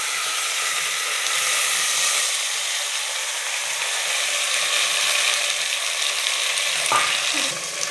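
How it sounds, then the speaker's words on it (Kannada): Onions frying slowly in a pan over a medium flame for a lentil sambar, a steady close sizzle with soft stirring scrapes and a brief clatter near the end. "ಅದಕ್ಕೆ ನಾನು ಸ್ಲೋವಲ್ಲಿ ಇಟ್ಕೊಂಡು ಈರುಳ್ಳಿನ ಫ್ರೈ ಮಾಡ್ಕೊತಾ ಇದ್ದೀನಿ."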